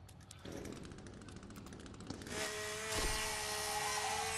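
A chainsaw runs in the survival video game The Forest, giving a loud, continuous buzzing roar that grows harsher and louder partway through, with no voices over it.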